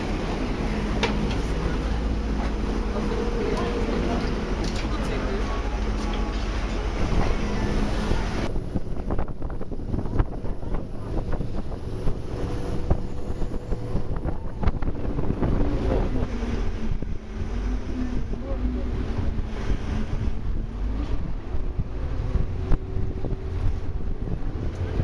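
A vaporetto water bus on line 2 cruising along Venice's Giudecca Canal toward Giudecca, with a steady engine drone, water wash and heavy wind buffeting the microphone throughout, no talk.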